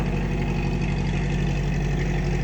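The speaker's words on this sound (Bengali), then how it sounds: "দেখেন এইটা কত বড় বড় ট্রলার যায়, গাছের ট্রলার" A heavy river trawler engine drones steadily and close as a large timber-carrying trawler passes, a low continuous rumble with no change in pace and no talking.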